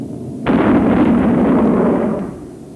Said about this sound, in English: to be heard by everybody underneath as a sort of double bang